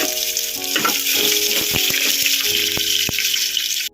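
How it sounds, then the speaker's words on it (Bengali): Bay leaves, dried chillies and chopped onion frying in hot oil in a pan for a mutton dish, giving a steady close sizzle with a few scrapes and clinks of a utensil, no talk. "এখানে দিয়ে দেবো 2টো তেজপাতা, 2টো শুকনো লঙ্কা, আর আমি একটা পেঁয়াজ কুচিয়ে রেখেছিলাম, সেটার মধ্যে দিয়ে দেবো।"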